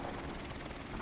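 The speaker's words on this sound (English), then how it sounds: "Friendly helicopter on the way." Friendly helicopter in the video game Modern Warfare Remastered, a steady, loud rotor and engine drone with a rapid thudding pulse, continuous and near.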